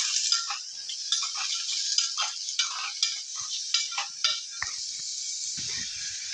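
A spoon scrapes and clinks rhythmically against a pot while spices, jaggery and green chillies are mixed together for a taro root stew, with repeated stirring strokes over a faint background hiss.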